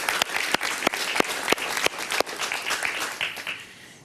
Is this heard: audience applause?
yes